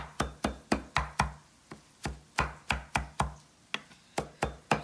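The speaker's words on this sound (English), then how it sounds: "Little chop here." A knife chops fresh spinach on a cutting board in a home kitchen, about sixteen sharp, close thuds in a fairly steady rhythm with short gaps, heard alone.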